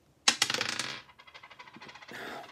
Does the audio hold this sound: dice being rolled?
yes